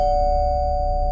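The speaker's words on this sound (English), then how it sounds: "But when I heard the doorbell" A doorbell chime in the Roblox game Livetopia rings as a single sustained electronic tone, held steadily and clearly over a low background hum with no talk.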